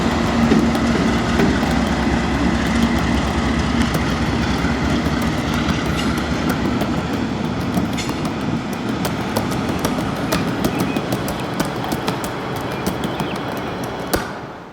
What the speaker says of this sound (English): we could see the train reversing just a little bit